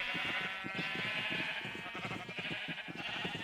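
Sheep from the video game Minecraft bleating repeatedly in a quick, wavering run of calls, loud and close, with no speech.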